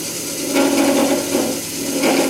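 A skew chisel used as a scraper on an acrylic pen blank spinning on a Harbor Freight mini lathe, giving a steady close rasping scrape that swells in a few short passes over the lathe's hum.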